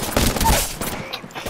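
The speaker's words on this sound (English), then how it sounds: "They're firing on me." Gunfire in an arena shooter video game, a dense run of rapid automatic shots at steady loudness, close and continuous for a moment before thinning out.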